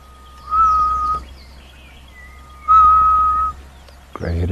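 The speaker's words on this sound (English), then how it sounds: "Lots of very happy, chirpy birds this morning." Morning birds call in the bush, with two clear sustained whistled notes spaced a few seconds apart and a brief burst of chatter at the end, close and loud over quiet surroundings.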